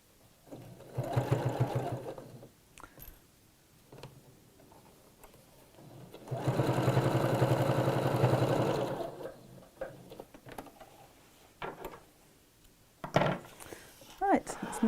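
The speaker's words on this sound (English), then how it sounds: "So let's just sew around here." A sewing machine stitches around a circular fabric pocket in two bursts of steady motor whir, a short one early and a longer run midway, with a person talking in the quieter gaps between.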